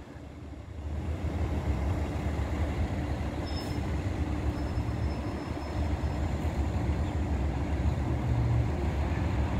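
Long Island Rail Road train in New York City crossing over onto westbound tracks, a steady rolling rumble of wheels on rail with faint high squeals, moderately distant and continuous, no voices.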